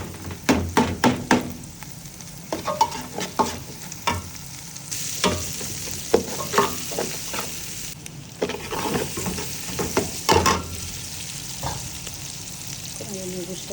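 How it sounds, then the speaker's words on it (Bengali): Three eggs frying in a pan for an iftar noodle dish, stirred and scraped with a utensil, giving a sizzle broken by clustered clicks and scrapes at irregular intervals, with some background voice. "রাখ তিনটা ডিম দিয়ে দিলাম।"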